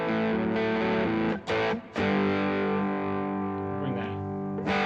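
Electric guitar driven through a Tube Screamer overdrive into a reverb pedal, sustained distorted chords ringing loud and close with a brief gap where the strings are choked, then a long wash of reverb tail.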